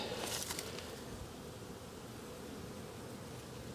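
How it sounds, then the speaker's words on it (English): Honey bees buzzing around busy hives outdoors, a faint, steady, continuous hum with soft rustling and no talk. "every hive, the bees are out and about"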